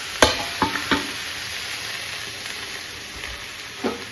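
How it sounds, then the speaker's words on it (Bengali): Spring onion greens frying in a home kitchen pan, a loud continuous hiss and sizzle with several sharp clacks of a spatula stirring near the start and one more near the end, no talking. "পেঁয়াজ কলি হচ্ছে।"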